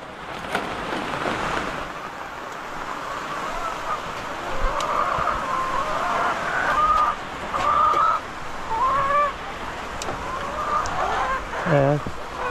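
Pet chickens cluck and call in their coop at feeding time, several short, repeated clucks and squawks close by over a steady wash of heavy rain, with a person talking at times.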